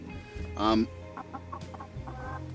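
A pet hen clucks close by, one loud rising squawk followed by several soft short clucks over a low background hum.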